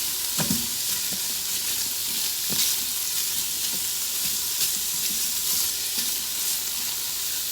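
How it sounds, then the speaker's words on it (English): Meat sauce sizzles steadily inside an Instant Pot Duo Nova 8-quart, with a constant hiss and a few soft scraping clicks from a wooden spurtle stirring the pot, close and moderately loud with no talking. "it's sizzling nicely"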